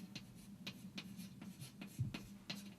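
Quick hand-writing strokes on paper as circuit loop equations are jotted down, a rhythmic series of short scratchy pen strokes roughly twice a second, close and quiet.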